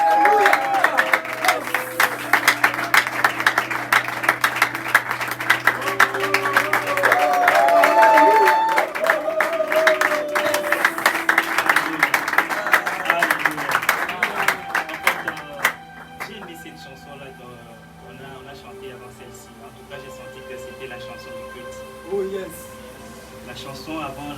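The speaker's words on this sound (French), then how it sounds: "nous acclamons très très fort pour le Seigneur" A church congregation applauding and cheering loudly for a preacher, dense clapping and shouts over sustained keyboard tones for about fifteen seconds, then thinning out and fading into music and voices.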